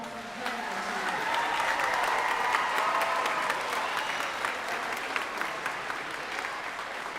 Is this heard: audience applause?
yes